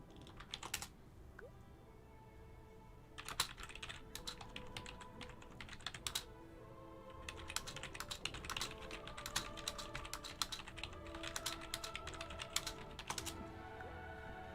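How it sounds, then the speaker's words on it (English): Fast typing on a computer keyboard clatters in quick irregular bursts of key clicks, close and moderately loud, with short pauses between flurries and no talk. "my fast typing is not too great"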